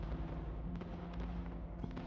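Fireworks in the Somerville video game, a run of soft crackling pops and thuds over a constant low rumble, moderately quiet with no speech.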